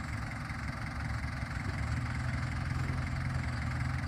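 A Yanmar EF514 MU tractor engine idles steadily, a low continuous chugging rumble with no change in pace throughout.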